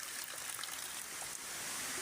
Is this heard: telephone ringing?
no